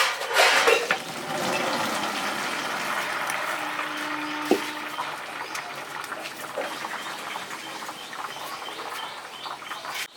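Boiled pasta is drained of its water in a kitchen, with rushing, splashing water and metallic clatter of the pot or strainer, loudest at the start and then easing to a steady trickle.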